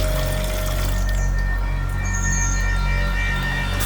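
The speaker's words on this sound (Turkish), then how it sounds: "suya bakın. Çamur akıyor, çamur." Muddy water flows steadily on a farm, a continuous close rushing and trickling with no pauses.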